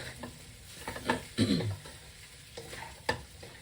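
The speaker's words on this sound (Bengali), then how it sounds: "পুরো সাবুগুলো মিশিয়ে দেবো" Sago upma stirred in a pan, spoon scraping and pushing the grains in irregular strokes with a few louder swishes and a faint sizzle underneath, close and clear.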